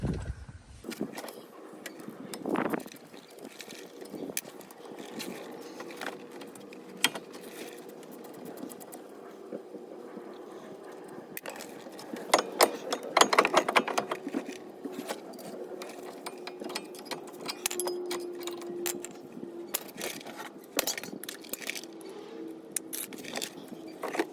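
A power tool whirring and rattling in bursts while 21mm caliper bracket bolts are removed from the front brakes of a 2001-2005 Kia Sedona, with intermittent clicks and metallic clatter between runs.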